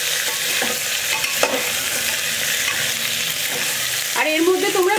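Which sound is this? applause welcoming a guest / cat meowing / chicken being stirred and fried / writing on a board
chicken being stirred and fried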